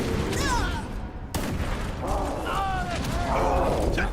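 Gunfire crackles in Halo during a fight with worm-like enemies, sharp shots mixed with mechanical clanks and creaks, with game voices and a player speaking over the action.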